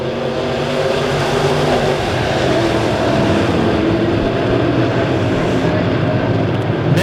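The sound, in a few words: Midwest Mods race cars racing at Springfield Raceway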